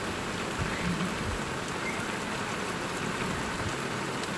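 Heavy rain pours steadily outdoors in Scotland, a dense even hiss of drops on surfaces that stays loud and unbroken, with no voices.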